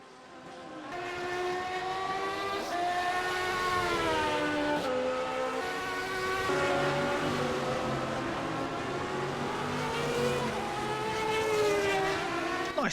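MetalMoro AJR race car engines in a racing sim at Imola scream steadily as several cars run together, pitch climbing and dropping through gear changes. The sound is loud, continuous and layered.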